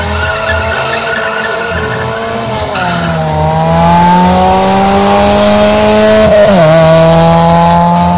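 Drag racing cars number 9 and 18 launching off the start line, tyres squealing and engines revving hard, their rising whine sweeping up through gear changes, loud and close with no talk.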